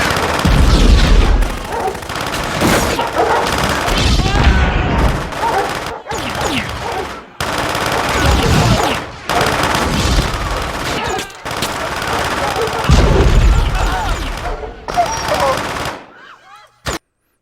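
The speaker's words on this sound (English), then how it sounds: "most of the action we see here is just sparks and explosion" Gunfire and explosions from the Terminator movie, bursts of rapid machine-gun fire and booming blasts coming in loud waves, broken by brief silent gaps.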